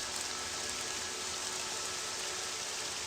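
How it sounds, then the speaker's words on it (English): Steady rain ambience in the video game Morrowind, a dense continuous hiss of falling rain, even and unbroken, with no voices. "I'm going to leave this pleasing rain sound on"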